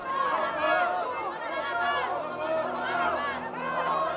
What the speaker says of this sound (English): Pilate is interrupted by the crowd, baying for him to release Barabbas and crucify Jesus